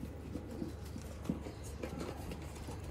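Young Ferozpuri Zeeray pigeons coo softly and repeatedly at close range, low throaty calls recurring every half second or so against a steady background murmur.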